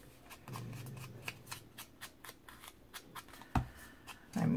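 Scissors snipping through paper ephemera at a craft table, a quick series of short crisp cuts in an uneven rhythm, close and fairly quiet, with no talking.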